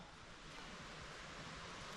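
Steady broadband rushing of wind in a forest, loud and continuous throughout, with no voices.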